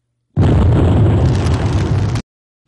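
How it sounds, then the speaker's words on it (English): A big, loud explosion sound effect: a sudden booming burst that holds at full strength for nearly two seconds, then cuts off abruptly, with silence before and after. "And I'm going to leave this out with a big explosion."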